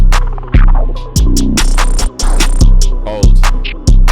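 A Super 808 bass drum thumps a booming, sustained pattern in a loud electronic beat, with deep hits every half second or so and hi-hats and other percussion layered on top.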